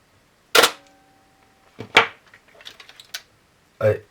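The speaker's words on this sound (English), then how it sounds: "if you press it down, the shutter will open" A sharp mechanical click from a Zenza Bronica GS-1 medium format camera shutter release rings out, followed by a couple of softer clicks and rattles, then one more crisp snap, close and clear in a quiet room.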